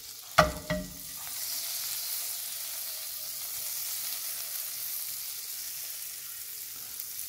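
A knob of butter melts with a little oil in a frying pan for an egg: two quick clunks, then a steady, even sizzle close by.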